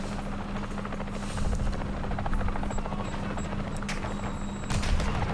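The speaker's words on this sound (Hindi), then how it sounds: "यहाँ कहीं से मेरे हेलीकॉप्टर की आवाज़ आ रही है।" A helicopter's rotor thumps rapidly and continuously nearby in the video game Warzone 2.0 DMZ mode, with a steady engine drone and scattered sharp bursts in the background.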